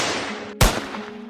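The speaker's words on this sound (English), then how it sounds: "I'm just gonna get the sounds from the toolbox. So I'm gonna put gunshot." Roblox Studio toolbox gunshot effect, a single sharp loud blast that cuts in over a faint hum and fades with a short tail.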